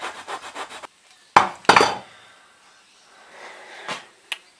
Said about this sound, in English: watching someone use a hacksaw to cut wood with